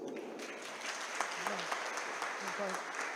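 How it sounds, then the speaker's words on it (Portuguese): Applause from the audience at an education lecture as a professor is welcomed, fairly soft and steady, with voices and a few cheers mixed in. "Pode parar que o aplauso hoje não é para mim, não."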